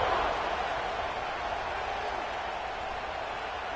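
Steady roar of a stadium crowd cheering before a football kickoff in a video game, a dense continuous wash of noise with no distinct voices standing out.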